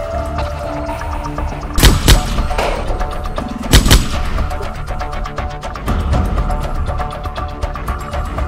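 Two sharp, loud gunshots ring out a couple of seconds apart over a rumbling, noisy background.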